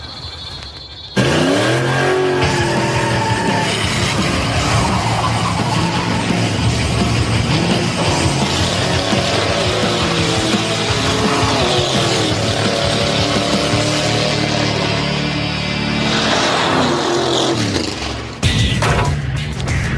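A 1978 Pontiac Firebird's engine revs and accelerates loudly nearby, pitch rising and falling through gear changes as the car drives on, with no talking.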